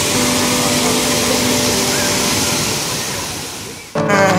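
Sendang Gile waterfall in Lombok roars as a steady, dense broadband rush close by, holding constant for about four seconds before a brief dip and a louder burst at the end.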